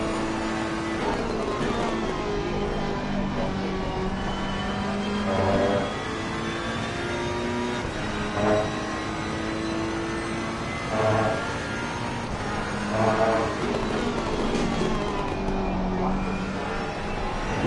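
A McLaren race car engine in Assetto Corsa Competizione racing at Donington on PS4, a sustained high-revving drone with shifting pitch and brief surges as other cars pass, loud and continuous.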